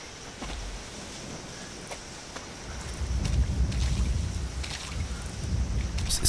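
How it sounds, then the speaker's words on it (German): Wind in the Resident Evil 7 video game blows as a low, breathy rush, swelling louder partway through, with faint scattered knocks and creaks over it and no speech. "Soll das Wind darstellen?"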